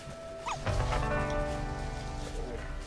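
Several excited barks and yips from badgers in the video game Shelter, with a high whimpering squeak near the start, over a steady electronic background hum.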